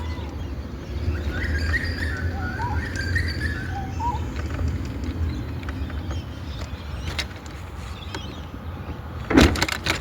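Birds call outdoors in Australia, a scatter of short chirps and whistles rising over a steady background rumble, with a brief sharp knock near the end.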